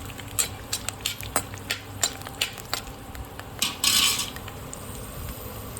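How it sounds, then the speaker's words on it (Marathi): Peanuts being fried in a pan rattle and clink as a metal spoon scrapes and taps against it, irregular clatters spaced through the clip, with one louder burst of sizzling rustle midway; no voices. "शेंगदाणे आपल्याला थोडेसे तळून घ्यायचे."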